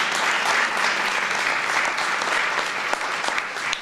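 An audience bursts into applause, a dense, steady wash of many hands clapping together that holds for several seconds, close and loud.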